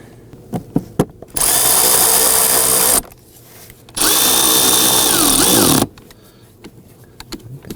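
A cordless power drill driving screws into an interior panel of a 2001-2009 Volvo S60, two loud sustained whirring bursts of about two seconds each, with faint clicks and handling noises between them and no talking.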